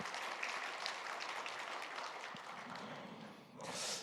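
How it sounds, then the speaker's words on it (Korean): A church congregation at a Sunday worship service claps for its volunteers, a soft, somewhat distant wash of applause that carries on steadily and ends with a brief bright burst. "우리 수고하신 분들에 대해서 박수 한번 해주시죠."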